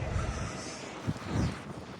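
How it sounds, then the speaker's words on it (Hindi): A strong, cold wind blows outdoors in snowy Washington, buffeting the microphone with a steady broadband rush and low gusty thumps, close and moderately loud. "बहुत ही ज़्यादा ठंडी हवा चल रही है।"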